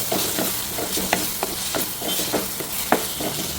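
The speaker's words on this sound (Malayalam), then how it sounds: "ഇനി ഇതെല്ലാം കൂടി ഒന്ന് നന്നായിട്ട് വഴറ്റിയെടുക്കാം." Onion masala with coriander powder is sautéed in a pan: a constant soft sizzle with regular sharp scrapes from stirring, about a dozen strokes in quick succession.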